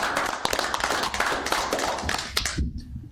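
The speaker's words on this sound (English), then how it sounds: "I think we should give them all a round of applause." A small room at a county meeting breaks into a short round of clapping from a modest group, close and crisp, stopping abruptly near the end.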